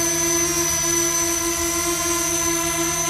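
A C-Fly Faith camera drone flying on a morning flight, its steady high-pitched rotor whine and buzz holding constant and fairly loud throughout, with no voices.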